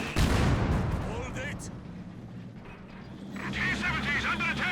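Heavy mortar artillery fire in the Company of Heroes 2 video game, with a sharp loud blast at the start and then a rumbling battlefield din. A voice commentates over the sound throughout.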